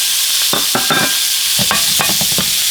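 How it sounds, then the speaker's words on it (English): Sausages hit a hot frying pan beside crispy fried potatoes, a steady bright sizzle underlying clattering stirs and scrapes of a utensil, close and loud with no talking. "I'm going to throw these sausages in here"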